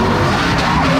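Drift car sliding at a motorsport event: a loud, continuous roar of tire squeal and engine noise filling the whole brief moment without letup.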